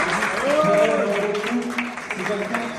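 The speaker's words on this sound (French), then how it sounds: "vraiment, il mérite quelques applaudissements." Audience applause at a community gathering in a hall, a steady wash of clapping lasting throughout, with voices calling and speaking over it.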